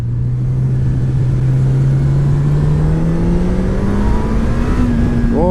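A 2018 Honda CB1000R motorcycle engine revs loud and close, its deep rumble rising steadily in pitch as the throttle opens, with no talk over it.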